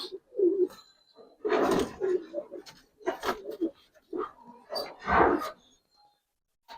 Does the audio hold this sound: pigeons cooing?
yes